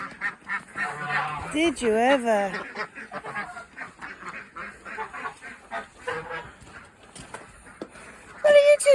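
Ducks and geese in a garden honk and quack in bursts while running, with excited voices talking over them throughout and a louder close call near the end.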